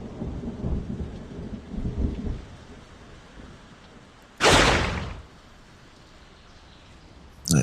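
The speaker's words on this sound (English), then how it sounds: "Walk forward and do a poison rain on them." A poison rain spell in the video game Queen's Wish 2 lands as one loud, roaring whoosh like a thunderclap and downpour, lasting about half a second before fading into quiet rumbling.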